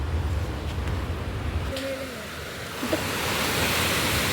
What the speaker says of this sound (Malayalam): ഇതാണ് കടൽ ഗൈസ്.